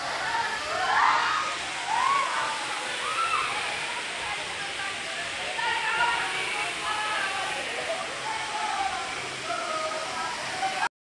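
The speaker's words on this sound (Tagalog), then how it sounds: "Pag summer, mahina ang bagsak ng tubig at kulay brown." Puray Falls in Barangay Puray pours with weak summer flow, a steady broadband rush of falling water, fairly loud and constant, with a voice speaking over it near the start.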